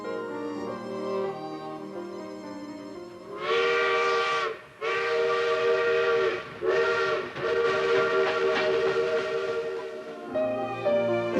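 A steam train arriving at a station in Bauru, Brazil, sounds its whistle in several long, loud, harmonic blasts separated by short gaps, over a softer hiss and rumble of the locomotive.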